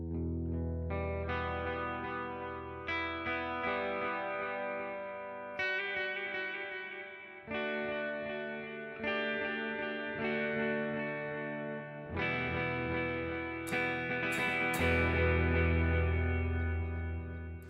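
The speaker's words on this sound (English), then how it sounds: "this is a pretty decent delay" Electric guitar played through delay and reverb effects in the EchoFlower iOS app, loud plucked notes and chords ringing out with repeating echoes and long washy tails, alone without talk.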